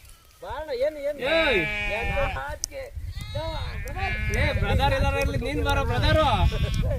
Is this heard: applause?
no